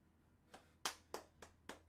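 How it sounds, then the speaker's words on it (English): A few people clapping at a home workout session, five sparse, separate claps spaced unevenly, faint and fairly close in a quiet room. "Clap it up for yourselves, you did it."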